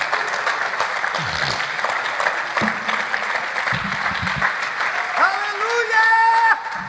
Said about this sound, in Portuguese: Você pode aplaudir a palavra do Senhor bem forte?